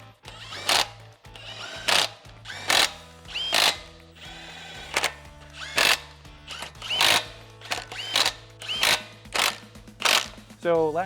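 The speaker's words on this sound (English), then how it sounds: "retorque our upper control arm bolts" A hand ratchet retorquing the upper control arm bolts on a Toyota Tacoma during a leveling kit install, giving repeated bursts of sharp clicking in a steady rhythm, close and clear, with a low hum beneath.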